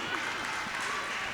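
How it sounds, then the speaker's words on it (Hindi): Brief audience applause welcoming guests at a religious gathering in Ahmedabad, a dense, even burst of clapping from a crowd, moderately loud. "जोरदार तालियों से स्वागत करेंगे।"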